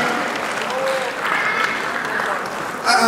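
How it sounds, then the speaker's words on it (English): Audience applause at an award event during the 2020 Lagos Fashion Show, a dense continuous wash of clapping with voices mixed in and a louder swell near the end. "Please, a resounding round of applause for her."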